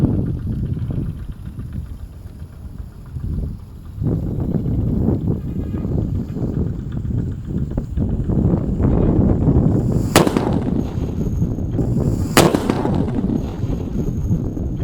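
A steady crackling rumble runs throughout, broken by two sharp, loud bangs near the end, like paper-wrapped firecrackers going off close by.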